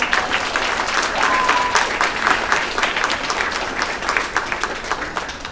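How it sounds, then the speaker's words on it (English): Audience applause at a school concert, a full, lively wash of many people clapping at close range, sustained and fairly loud before thinning slightly at the end. "Can we please give them a round of applause?"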